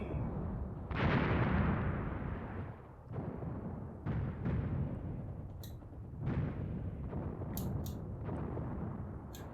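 Soviet artillery pounds an area in the war game Graviteam Tactics: Mius Front, a series of heavy booming blasts with rumbling tails, some distant and some nearer, rolling on one after another.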